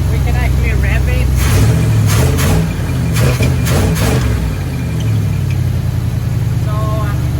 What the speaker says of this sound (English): And now we can actually rev it.